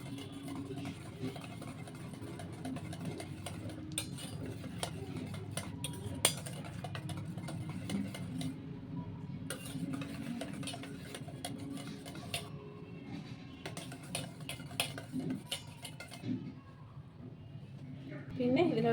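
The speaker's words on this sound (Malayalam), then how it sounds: "വീണ്ടും നമുക്ക് നല്ലതുപോലെ ഇത് എല്ലാം കൂടെ മിക്സ് ചെയ്യാം." A spoon or whisk clinks and scrapes against a bowl while cake batter is mixed with sunflower oil, irregular close taps and stirring over steady background noise.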